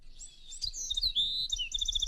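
Bewick's wren singing, a high-pitched, varied run of clear chirps and trills that ends in a rapid repeated series, close and distinct against a quiet background.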